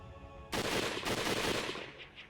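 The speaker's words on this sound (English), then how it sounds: "more gunfire came ringing from the distance" A sudden burst of rapid gunfire in the video game Hakuoki erupts after a brief quiet and rattles on steadily, sounding distant and somewhat muffled.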